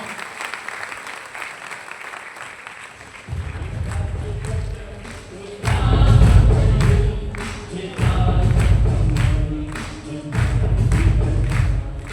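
Loud applause from an audience filling an auditorium, swelling in several waves of dense clapping with thumping bursts, as a speaker's voice carries over it.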